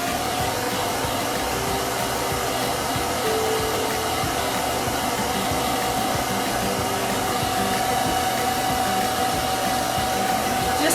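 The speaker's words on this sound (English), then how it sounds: "Now I'm gonna blow dry that" A blow dryer on a cool setting runs steadily and loudly the whole time, a constant whooshing roar as it dries chalk paste on a farmhouse-style DIY craft piece.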